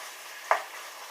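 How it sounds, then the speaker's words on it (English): Steady crackling sizzle of chorizo frying in a pan in bubbling red oil, with one brief sharper pop partway through. "you get this weird red bubbling oil at the bottom of the pan"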